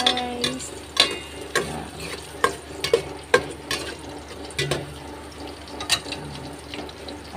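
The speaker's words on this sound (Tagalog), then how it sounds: "Maglalagay na tayo ng sibuyas at haluin natin siya guys." Onions stirred in a cooking pot for sinigang na bangus, with a soft frying sizzle under regular sharp clacks of a utensil against the pot, roughly one every half second, close by.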